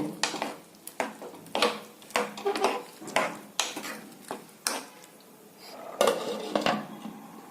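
Metal utensil scrapes and clinks against a pot while stirring jackfruit seed and chana dal kootu, in an irregular rhythm, close up, with no talking.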